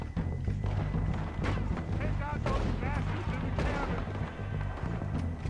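Booming gunshots from Red Dead Redemption 2, a steady barrage of heavy shots and thuds beneath a busy in-game soundtrack, with talking layered over the firing.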